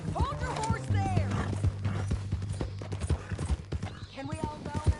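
Hooves clip-clop beneath a busy in-game scene in Red Dead Redemption, mixed with voices talking and a low steady hum, the hoofbeats moderately loud and irregular.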